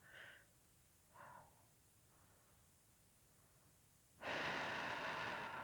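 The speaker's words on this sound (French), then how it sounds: "Je sens cette respiration qui coule," Slow breathing during a guided meditation: two faint, soft breaths spaced apart, then a louder, longer, airy breath near the end, with no talking.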